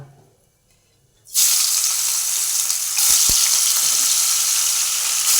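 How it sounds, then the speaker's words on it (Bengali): Small fish frying in hot oil for a guru fish curry: after a second of near quiet, a loud, dense, steady sizzle bursts in close by and holds to the end. "তেলগুলো আছে সেই তেলের মধ্যে আর যে মাছ আছে সেগুলো আমি ভেজে নেব"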